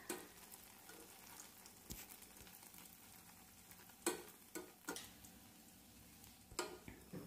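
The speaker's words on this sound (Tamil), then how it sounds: "அதையும் எடுத்து இதில் போட்டு வறுத்துடலாம்." Squares of bread fry in ghee in a pan with a soft, steady sizzle. Occasional sharp clicks and scrapes from stirring break in. It is quiet and close, with no talking.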